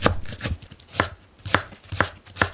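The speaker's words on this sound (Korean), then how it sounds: "파를 어서 썰어 주세요." A knife chopping green onion on a cutting board, six sharp close knocks at an even, unhurried rhythm with quiet gaps between, and no talk.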